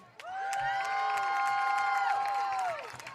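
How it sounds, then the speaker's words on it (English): Crowd at a high school varsity football homecoming game cheering and applauding the homecoming court and king and queen: a loud, sustained roar with whoops and held tones that swells quickly and then fades after about three seconds. "Let's give our 2021 to 22 homecoming court and king and queen a round of applause."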